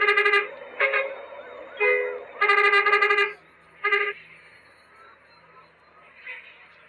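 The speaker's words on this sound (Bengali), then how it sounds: "এটা হচ্ছে বাংলাদেশি হর্ন" A Bangladeshi bus horn honks in a series of loud, multi-toned blasts, some short and some held for about a second, close by, with quieter gaps between them and faint background noise.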